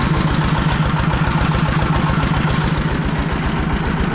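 A Fighter T-20 motor tractor runs in low gear through a potato field, its engine chugging with a steady, close, rapid low throb that keeps an even loudness throughout.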